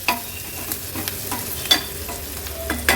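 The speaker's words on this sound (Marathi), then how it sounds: "कांदा आता परतून घेऊया" Chopped onion sautés in a little oil in a pan, a soft continuous sizzle broken by regular spatula scrapes and light knocks every half second or so, close and clear.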